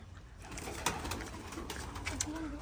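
Soft pigeon coos drift in under steady outdoor background noise, with a few brief sharper bird sounds scattered through.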